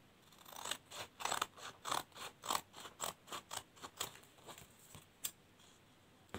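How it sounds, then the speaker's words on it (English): Scissors trim excess material from a handmade photo frame, about fifteen quick, evenly spaced snips in a steady rhythm, close and fairly quiet, with no talking. "So you are going to cut out these excesses. I'm going to trim it out this way."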